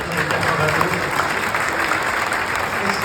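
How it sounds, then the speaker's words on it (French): An audience at a memorial ceremony applauds steadily, a dense, sustained clapping from many people in a hall that carries on evenly throughout. "j'aimerais qu'on applaudisse Rénal"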